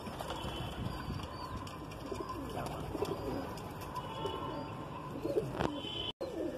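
High-flying Madrasi pigeons coo softly within a busy outdoor soundscape, their low calls partly blended into steady background noise with faint chirps, and no voices heard.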